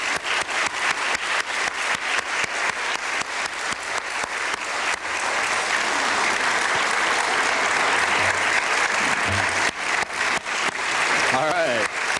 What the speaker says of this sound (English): Let's give one final round of applause for the 5 newest members of the Dondero Hall of Fame.